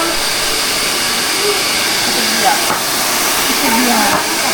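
A battery-powered rechargeable hair dryer blows a steady, loud broadband hiss that keeps going through the whole stretch, running while someone styles hair during a makeover.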